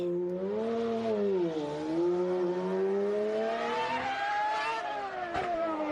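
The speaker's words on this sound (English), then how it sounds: "listen to the car fire up" A mid-1990s Ferrari Formula One car's V12 engine running and revving, a loud, high, sustained wail that rises and falls in pitch through continuous revs, with no talk.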